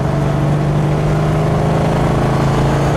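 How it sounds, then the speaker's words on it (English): The engine of a 1936 Ford two-door custom phaeton with a custom exhaust rumbles loud and close in a deep, steady, throaty idle with a slight uneven pulse. "a really nice volume to the motor, a really nice ferocious tone to the custom exhaust"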